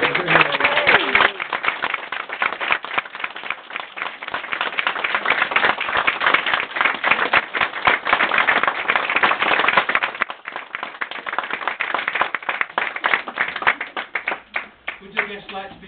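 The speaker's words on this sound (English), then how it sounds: "Round of applause." Applause from wedding guests right after the couple is declared husband and wife, a sustained dense burst of many hands clapping close by, with cheering voices mixed in, trailing off near the end.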